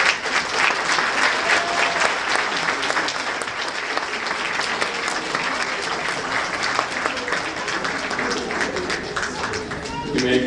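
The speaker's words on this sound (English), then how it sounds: "give a round of applause to your families and friends for their encouragement and help" Graduates and guests at a university fall graduation ceremony clap loudly in a large hall, a thick, continuous burst of applause with crowd voices woven through it, holding steady from start to finish.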